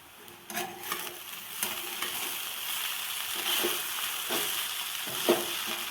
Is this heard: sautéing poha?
yes